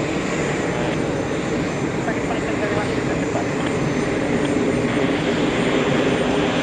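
An Airbus A380 pushing back at John F. Kennedy International, a steady engine whine and rumble held close and loud, growing slightly stronger toward the end.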